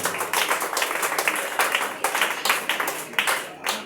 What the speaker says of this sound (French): Acclame pour les rois.